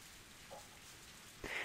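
Rain patters steadily on a bus stop rooftop in a Higurashi game scene, a soft continuous hiss with a few brighter drop hits, faint and close.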